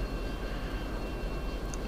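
F-22 jet engine throttled back to about half power while flying low and slow in the flight simulator game Total Air War, a steady broadband roar with constant low rumble and no talk.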